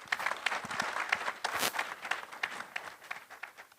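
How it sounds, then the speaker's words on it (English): Fairly quiet audience applause at a town hall panel event in Namibia, with individual claps distinct and irregular rather than a dense roar, continuing for several seconds at a modest, uneven level. "Let's give you another round of applause."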